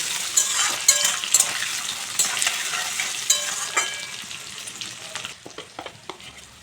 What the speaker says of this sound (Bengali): আলু গাজরটা আমি একটু ভেজে নেব